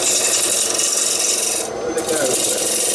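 Woodturning gouge cutting Mahonia wood on a lathe, a steady, loud, continuous rasping shear with only a brief dip in intensity partway through.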